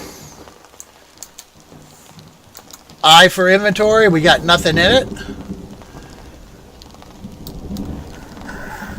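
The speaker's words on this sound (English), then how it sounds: "It seems to be raining quite a bit" Steady rain patters through the background of the survival game Will to Live Online, a constant hiss running under a voice that speaks briefly in the middle.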